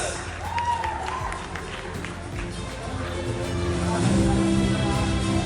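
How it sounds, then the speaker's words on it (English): Crowd applause at a ceremony honouring a university topper, broad steady clapping mixed with crowd murmur and background noise, building slightly toward the end, with voices talking underneath. "Big round of applause."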